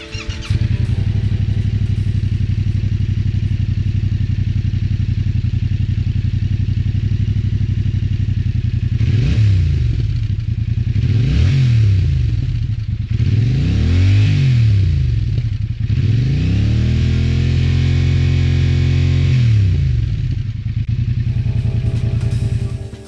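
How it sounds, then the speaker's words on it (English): A 2022 Yamaha YZF-R7 motorcycle idles with a deep exhaust note, then revs up sharply four times in a row before settling back to idle. "It has a unique, deeper exhaust sound."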